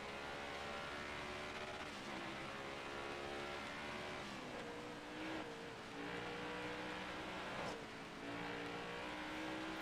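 A NASCAR race car engine on dirt Bristol in NASCAR Heat 5 drones continuously and faintly, with shifting pitch as it revs and eases through the lap.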